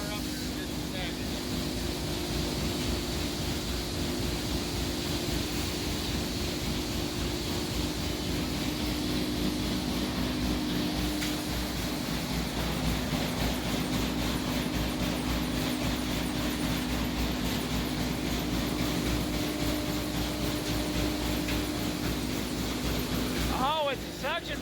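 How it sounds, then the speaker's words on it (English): A suction blower roars continuously, close and loud, as material is fed into it, with a steady droning hum that holds for the whole stretch. "Oh, it's a suction blower. See it sucking it in?"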